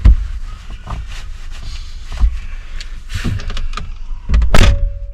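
A car door is pushed shut with a low thump, followed by scattered clicks and knocks from the door and a final heavy slam close by.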